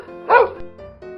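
A dog lets out a single loud, close bark, followed by quieter background sounds.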